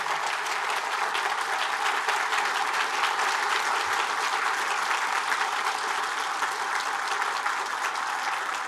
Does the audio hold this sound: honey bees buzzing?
no